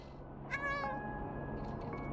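A cat meows in the video game Stray, one clear, rising meow followed by a softer trailing cry over faint ambient game noise, with no talking.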